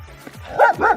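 Two short barks from a dog being walked by its owner close by in Vladivostok, one after another in the second half, over faint background noise.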